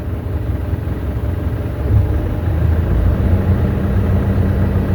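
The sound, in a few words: vehicle engine running rough, making the car vibrate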